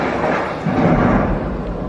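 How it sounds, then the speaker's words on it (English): Simulated thunderstorm effect at the Warner Bros. Studio Tour in London, a continuous low rumbling roar of rain and thunder that swells slightly midway, loud and close with no speech. "You get the storm effects right there."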